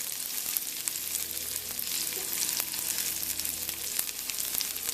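Pork frying in a pan for banh xeo gives a loud, steady close sizzle with faint crackles and occasional stirring scrapes, no voices.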